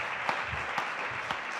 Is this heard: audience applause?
yes